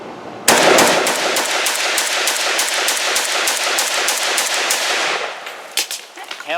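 Zastava ZPAP M70 rifle fed from a surplus Bosnian magazine fires a long, rapid string of shots, loud and close, each crack blurring into the next for about four and a half seconds before a few scattered clanks.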